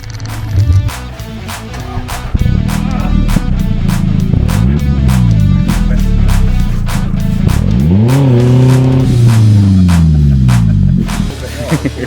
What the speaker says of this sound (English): you can literally hear the exhaust note change as he drove through it